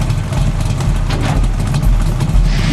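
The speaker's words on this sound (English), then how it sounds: "He's revving his V8 muscle car from 1970s." A 1970s V8 muscle car engine, a loud, deep, throbbing low rumble running continuously with rhythmic pulsing, close by.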